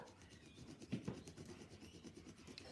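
A crayon rubs over paper laid on a parsley leaf, a soft continuous scratchy rasp with slight back-and-forth swells, quiet and close.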